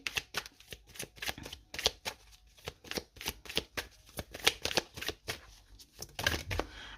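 Oracle Rhô cards shuffled by hand, giving a close, rhythmic series of crisp riffles and slaps that repeat steadily for several seconds with no speech over them.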